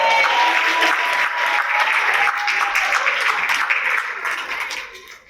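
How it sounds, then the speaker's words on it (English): A crowd at the Miracle League of Memphis baseball kickoff at Christian Brothers University gives the Horizon Group a loud, dense round of applause that holds steady, then tapers off in the final second. "The Horizon Group, give them another big round of applause."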